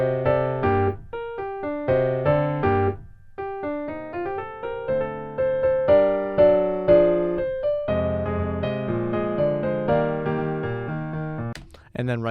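A vocal group sings a contemporary a cappella pre-chorus, blending layered harmonies over pulsing rhythmic syllables, close and full with brief pauses between phrases.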